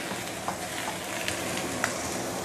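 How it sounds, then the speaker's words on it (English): Meat stir frying in a wok for mustard green stew, a continuous close sizzle with occasional sharp spatters and scraping stirs. "stir fry this for 2-3 minutes, then we move this over there"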